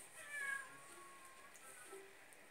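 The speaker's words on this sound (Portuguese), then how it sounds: "Eles miam, mas eu não acho." A kitten gives a single soft, thin meow early on, faint and fairly distant against a quiet indoor background.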